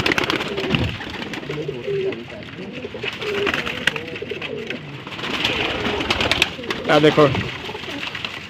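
Several pigeons coo in soft, repeated throaty phrases nearby over steady background noise, with a person talking at times.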